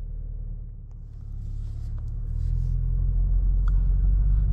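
A 2023 VW Golf R with DSG gearbox drives off, its low engine and road rumble steady and close, swelling slightly louder partway through as the car picks up pace.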